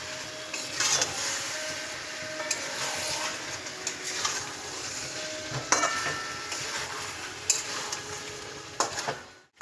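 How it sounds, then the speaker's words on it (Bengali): Chicken and fried potatoes are stirred through spice masala in a pan, with a soft continuous sizzle and intermittent scraping and clinks of a spoon against the metal, fairly quiet and with no voices. "এবার আমি মাংসগুলো মশলার মধ্যে দিয়ে দেব ও ভালো মতো কষে নেবো"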